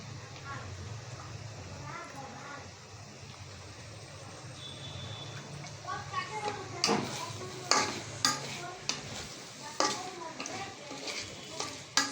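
Vegetable stalks cook in a pan for a fish dish with Malabar spinach and potato, a steady low sizzle running throughout, with sharper stirring scrapes and clatters growing busier in the second half.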